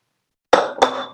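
Two quick clinks of a spoon against a bowl as chili sauce and tomato ketchup are stirred together, close and crisp against silence.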